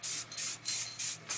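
Short bursts of green spray paint hissing from a can onto a Hayterette lawnmower, five quick puffs in a steady rhythm, close and fairly loud.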